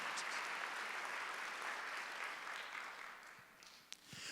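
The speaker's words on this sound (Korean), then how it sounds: "박수로 한번 하세요." A church congregation at a Sunday worship service applauds in a dense, sustained clatter of many hands that fades toward the end.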